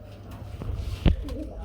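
Pigeons at a pigeon farm giving a brief low coo close by, over a faint background murmur.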